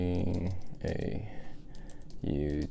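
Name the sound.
typing on Kindle Fire HD 10 keyboard keys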